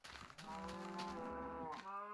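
A loud, near Minecraft cow gives a long sustained moo, and a second lowing call begins right after it in the blocky video game.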